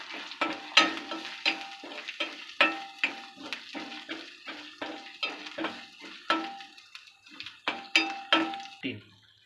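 Onion with Malvani chilli masala being sautéed in a pan, with a steady rhythm of scraping stirs and soft sizzling over about ten seconds at close range, with no talk.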